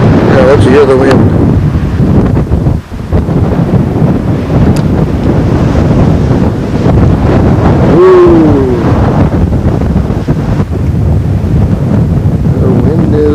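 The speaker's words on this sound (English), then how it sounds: "The wind is howling up here." Strong wind at a mountain overlook at Mojave Point roars continuously across the microphone in deep, buffeting gusts, loud and close, with faint voices now and then.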